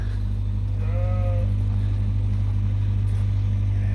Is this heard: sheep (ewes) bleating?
yes